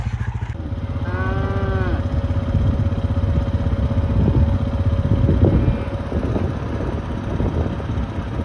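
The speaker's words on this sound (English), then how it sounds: "Cow and a bunch of yearlings in the front." Cattle with yearlings out front, being trailed along a road to fresh pasture, give a loud drawn-out moo near the start, over a constant low engine rumble and wind buffeting.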